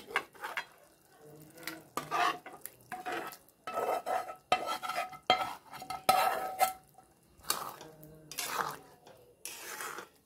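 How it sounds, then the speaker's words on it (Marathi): Paneer is stirred into masala in a pan, with repeated close scraping and clinking of a spoon against the metal and a light sizzle underneath, in uneven bursts. "आता आपण ह्याच्यात पनीर घालून घेऊया."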